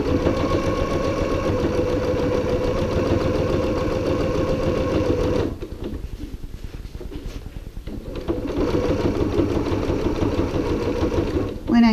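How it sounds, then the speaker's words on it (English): A sewing machine stitches a narrow 1/8-inch seam around a small fabric project bag, a steady rapid whirring hum with a brief slower, quieter stretch in the middle before full speed resumes, someone talking alongside. "I'm just going to using a very narrow, practically 1/8 of an inch seam allowance stitch all the way around"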